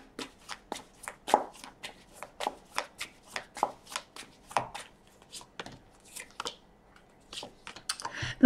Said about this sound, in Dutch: Ik ga de kaarten schudden om te kijken wat week 39 voor de Stier gaat brengen.